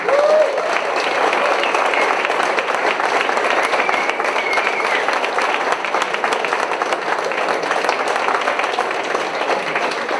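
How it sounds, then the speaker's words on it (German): Audience at a German audio-drama presentation event claps for a voice actress, a dense, even burst of applause filling about ten seconds, loud and continuous with no talk. "Applaus für Gwyneth Dumonier."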